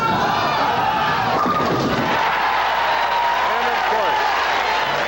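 Crowd at a 1981 pro bowling title match, the True Value Open, cheers and applauds in a loud sustained wash, with a commentator talking over it.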